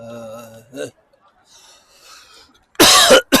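A man coughs during a chilly late-night commute in Shanghai. A short voiced sound and faint rustling come first, then one loud, harsh cough burst close to the microphone near the end.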